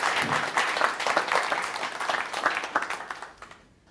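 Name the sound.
audience applause for a painter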